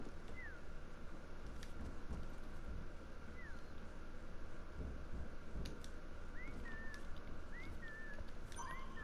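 Short rising and falling whistles from a player in a prop hunt video game, repeated several times and clustered toward the end, heard faintly over a steady hiss and low background rumble.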